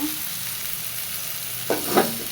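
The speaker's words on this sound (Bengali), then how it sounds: "এবার ভাজিগুলো একটু নাড়া দিয়ে দিব" Fried vegetables in a pan give off a soft, steady sizzle, then a spatula stirs them with two quick, close scraping strokes near the end.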